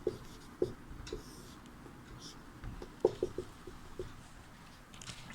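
Chalk or a marker writes on a classroom board in soft, scratchy strokes with occasional sharp taps, close and fairly quiet against a low background murmur, during a Sanskrit lesson.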